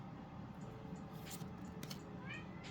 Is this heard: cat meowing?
yes